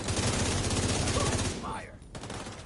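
Sustained automatic gunfire in The Division 2, a loud rapid stream of shots that stops abruptly near the end, with speech-like sound overlapping the firing.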